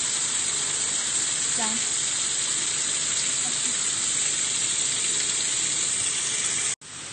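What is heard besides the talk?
steam hissing from opened vapor valve of distillation column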